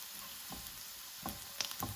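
Garlic frying in butter in a pan gives a faint, steady sizzle with a few soft clicks and taps near the end, no voices.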